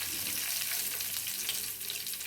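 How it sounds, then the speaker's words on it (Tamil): Mustard seeds and urad dal sputter and crackle in hot oil while tempering an Andhra-style spicy red chilli chutney. The sizzle is steady, dense and close, with no voices. "இந்த கடுகு உளுந்தம்பருப்பு கொஞ்சம் ஸ்ப்ளட்டர் ஆகட்டும்."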